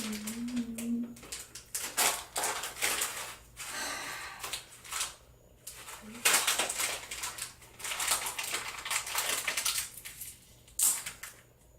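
Plastic or paper packaging being torn and wrestled open up close, with bursts of crinkling, ripping and rustling that come in uneven spurts, separated by brief pauses and a few breaths.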